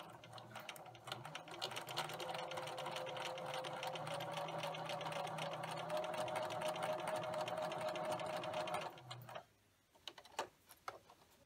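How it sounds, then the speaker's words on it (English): A sewing machine stitches fabric along a diagonal line for a candy corn banner, running loud and continuous for about nine seconds before stopping, followed by a few faint clicks and handling noises. "Now we're going to be sewing along that diagonal line."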